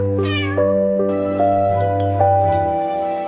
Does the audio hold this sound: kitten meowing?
yes